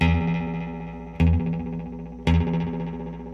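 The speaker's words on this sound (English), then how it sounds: "It's a real reverby type echo, but there's still some definition on all the repeats." Single clean electric guitar notes played through a vintage Binson Echorec echo unit, each attack followed by a long, reverb-like trail of distinct repeats; three plucks, evenly spaced, loud and close.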